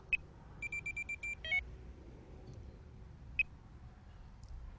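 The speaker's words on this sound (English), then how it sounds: "just activate the first buzzer" A Delkim TX-i fishing bite alarm buzzer sounds a few sharp single beeps and one quick run of rapid bleeps, all fairly faint over a low, steady background hum.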